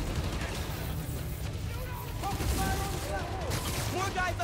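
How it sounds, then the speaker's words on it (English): Gunfire trades back and forth between police and escapees in the Marvel's Spider-Man: Miles Morales video game, with steady rattling shots mixed into dense game noise and voices throughout. "Police and escapees are shooting it out."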